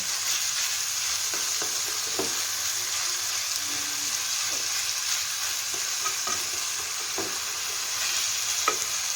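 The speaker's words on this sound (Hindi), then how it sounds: "इसको हमने अच्छी तरह फ्राई करना है ताकि प्याज और ये जो है ये अच्छी तरह फ्राई हो जाए" Onions and chicken frying in a pan for chicken malai boti, a steady broad sizzle with occasional stirring scrapes and clicks, close and continuous with no talking.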